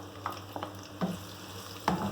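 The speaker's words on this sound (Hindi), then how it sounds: "इसको मीडियम फ्लेम पर हमें इतनी देर तक फ्राई करना है कि इनका कलर गोल्डन ब्राउन हो जाए" Sliced medium onion frying in oil over a medium flame in a karahi, a soft continuous sizzle with a few light stirring clicks and taps, no voices.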